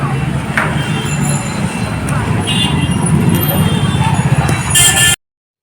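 Steady rumbling rattle of a moving train carriage, continuous and loud, with faint squeals and a brief brighter screech near the end before it cuts off.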